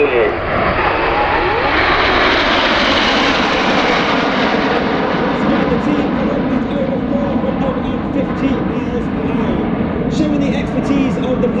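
Red Arrows jets flying a formation loop at Sywell Airshow 2024, a loud, sustained roar of jet engines rising and then steadying, broad and powerful throughout.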